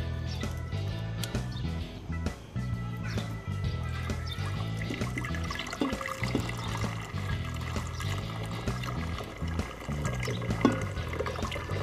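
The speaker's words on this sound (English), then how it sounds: "Slowly pour the water out." Water slowly poured off settled gold sludge recovered from CPU computer scrap, a soft continuous trickling and splashing under a low background hum.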